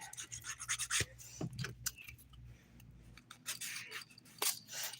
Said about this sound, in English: there's just some dip I got on my nail, on my skin when applying it, so I am just filing it away